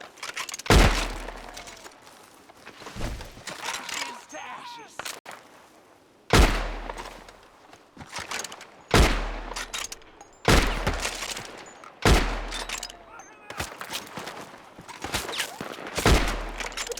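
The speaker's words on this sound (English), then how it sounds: "What are you shooting that shoots that fast?" Gunfire in Red Dead Redemption 2: repeated loud, sharp bursts of shots, each with a deep thump, every second or two, with quieter crackling shots in between.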